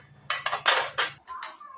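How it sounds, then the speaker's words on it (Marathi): Dal and rice are washed and a pressure cooker is set up in a home kitchen, with a few quick metallic clinks and scrapes of a steel pot and utensils, close and fairly soft. "धुवून स्वच्छ कुकरला लावून घेते."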